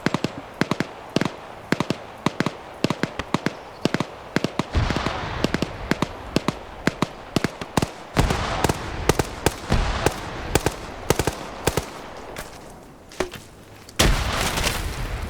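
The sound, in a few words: gunfire and grenade launcher shots in a shooter video game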